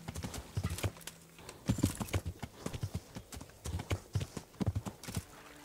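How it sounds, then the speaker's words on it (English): Horse hooves clip-clop at a steady gallop across the ground in the Kingdom Come Deliverance video game, rhythmic and fairly close, with a brief whinny. "I wonder if my horse can jump the river."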